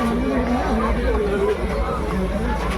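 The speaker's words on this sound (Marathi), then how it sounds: "पाहून घ्या गर्दी इकडे." A dense crowd at a village jatra fair for Shri Mahasiddha Maharaj in Dhanora, a continuous hubbub of many voices and chatter, with one nearby speaker talking over the steady babble.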